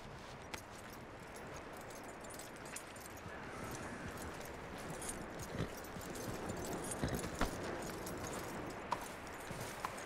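Horse hooves clip-clop steadily at a walking pace in Red Dead Redemption 2, a continuous run of soft, close hoof falls over low outdoor ambience, with a few sharper knocks.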